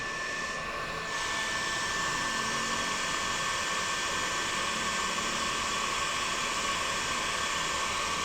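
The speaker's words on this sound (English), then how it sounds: "Fire up the heat gun." A heat gun blows steadily to melt solder over a wire joint during a motorcycle dash cam install, a constant loud airy roar filling the whole stretch with a slight shift near the start.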